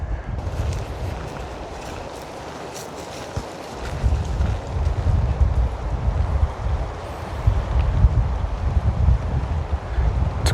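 Steady storm wind rushes and buffets in gusts at night, a loud low roar with water sloshing faintly beneath, no voices.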